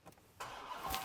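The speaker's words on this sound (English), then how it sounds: "Definitely got that chunky muscle car startup sound." A RAM 1500 TRX Final Edition pickup with the supercharged Hellcat engine starts up, a quick crank followed by a chunky, rising roar that settles into a steady idle, heard up close.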